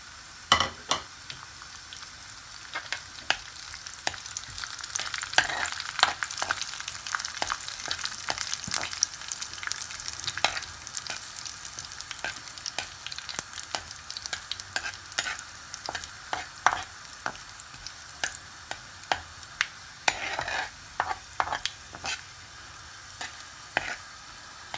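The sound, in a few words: cumin, curry leaves and chilies sizzling in tempering oil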